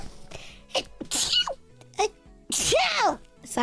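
A VTuber sneezes several times in a row during a stream, close and loud, and spoken words come between and after the bursts.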